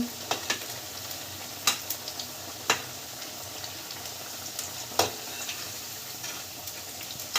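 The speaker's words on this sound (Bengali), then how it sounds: "মা উল্টে পাল্টে ভেজে নিচ্ছে" Cabbage pakoras fry in hot oil with a steady, close sizzle and bubbling, punctuated by sharp clicks and taps as they are turned over in the pan.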